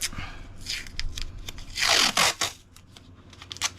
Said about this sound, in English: So what we're going to do first is take some painter's tape,